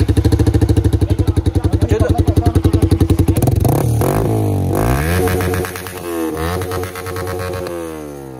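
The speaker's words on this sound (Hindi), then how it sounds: "अपनी बाइक स्टार्ट करके एक बार थोड़ी सी आवाज साउंड वाउंड सुनाओ" A motorcycle engine fires up with a loud rhythmic idle, then revs hard several times, rising and falling in pitch close by.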